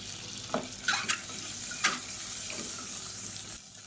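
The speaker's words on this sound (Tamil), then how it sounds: "இப்போ இந்த முட்டையை லேசாக வறுத்துக்கலாம்." Three boiled eggs lightly fry in oil in a kadai while egg pulao is being made, producing a steady close sizzle with a few louder scrapes and stirring knocks.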